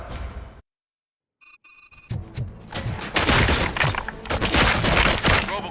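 Gunfire erupts in the RoboCop video game after a brief chime-like electronic tone, turning into dense, loud, sustained bursts of shots that fill the rest of the clip.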